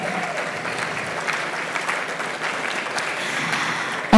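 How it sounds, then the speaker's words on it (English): Steady, dense clapping from a conference audience at a leadership dialogue in Abuja fills the room, evenly sustained throughout without pause. "Please, let's put our hands together."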